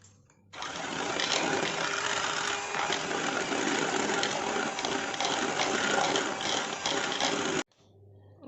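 An electric blender whipping cream runs as a loud, steady motor whir that starts abruptly, holds for about seven seconds, then cuts off sharply, close up with no talking.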